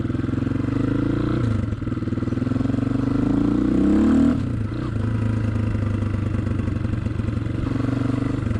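Honda XLR125R motorcycle with a newly fitted reinforced clutch, its single-cylinder engine running close and loud with a steady throb, revving up briefly midway before settling back to a steady running note.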